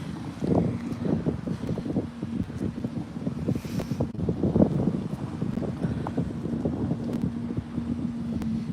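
Strong wind buffets the microphone in a steady, rumbling roar, gusting continuously throughout with no voices.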